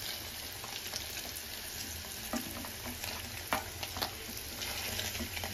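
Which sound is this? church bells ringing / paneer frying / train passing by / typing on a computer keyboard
paneer frying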